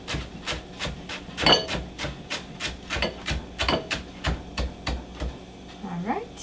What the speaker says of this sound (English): Let's chop our cilantro.